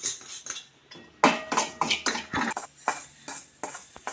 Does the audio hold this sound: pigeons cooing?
no